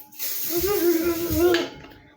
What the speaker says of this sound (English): Get your perfume, spray it all over you.